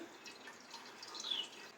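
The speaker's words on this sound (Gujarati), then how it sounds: "એક્સ્ટ્રા પાણી બધું આપણે દહીંમાંથી નીકળી જશે" Whey drips and trickles from curd strained in a cloth for shrikhand, a faint, soft, continuous wet patter heard up close with no talk.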